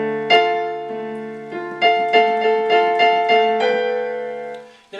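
A piano plays the next measure of a piece, with a sustained opening chord followed by a run of repeated chords struck in an even rhythm, each ringing and decaying cleanly, with no voices.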